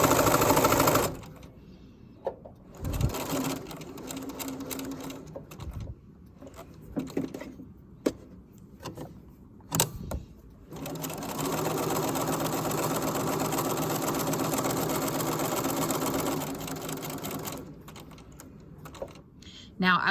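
Domestic sewing machine stitching a seam allowance sample, with bursts of rapid needle chatter broken by pauses, then a long steady run, close and clear, while a person talks between runs.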